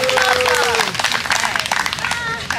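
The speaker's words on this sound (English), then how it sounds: "Applause!" Applause from a group of vacationers at a beach resort, dense clapping mixed with cheering voices and chatter, loud and continuous throughout.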